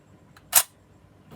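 A single crisp mechanical click of a film SLR camera shutter firing at 1/50 second, close and isolated against near silence.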